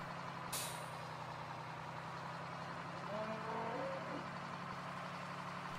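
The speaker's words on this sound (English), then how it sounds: "Turn, you crazy truck." Truck in Farming Simulator 2013 turning with a steady low engine hum, one sharp air-brake hiss early on, then faint tonal beeps over the continuing drone.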